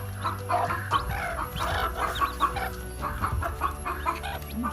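A brood of Aseel chicks chirps and peeps in dense overlapping bursts, close and busy, with a low hum underneath and no talk.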